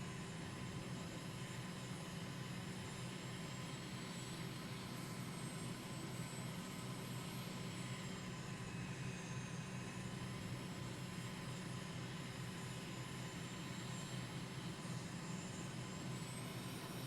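Steady broadband aircraft engine drone in Microsoft Flight Simulator during a formation-flying landing approach with gear down, continuous and loud with slight pitch shifts as power is eased back.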